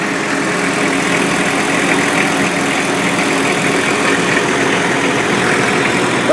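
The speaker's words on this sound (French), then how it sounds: "Voilà le moteur." A Clean Go street sweeper truck's engine idles with its dump body raised, a loud, steady, even rumble with constant vibration and no talking.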